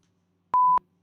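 A short electronic beep fired from a button, one clean steady tone lasting about a quarter second, loud and alone in near silence.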